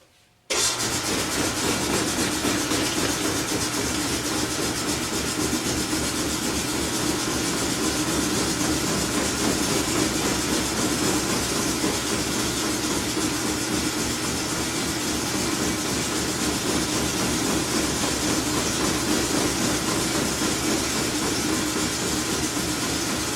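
A Frantom lapidary saw starts up with a quick onset, then runs on as a loud, continuous mechanical drone with steady motor hum and whirring for the whole stretch, no voices.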